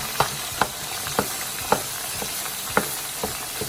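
Ground keema being broken up and stirred while it fries with onions in a pan, a soft steady sizzle punctuated by regular scraping strokes of the spoon.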